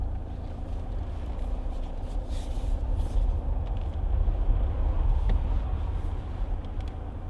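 A 2014 Vauxhall Astra 2.0 CDTi ecoFLEX diesel being driven, heard from inside as a steady low engine and road rumble that holds constant throughout, without speech.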